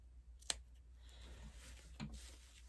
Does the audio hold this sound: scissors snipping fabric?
yes